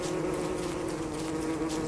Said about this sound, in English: Bee is all by itself now.